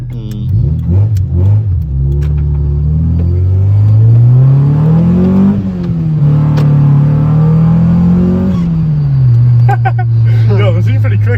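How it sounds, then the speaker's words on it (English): A rebuilt Honda Civic EG accelerates on its first drive. The engine note climbs through the revs, eases off, then climbs again, loud and close inside the car, with brief voices near the start and end. "Here's the successful little first drive. Sounds so good."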